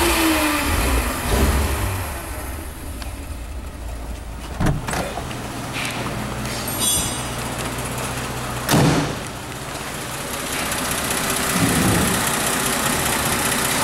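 A 1941 DeSoto Deluxe Sedan engine turns over on its foot starter with a few short bursts, catches and settles into a steady, smooth idle, heard fairly close with a low continuous rumble.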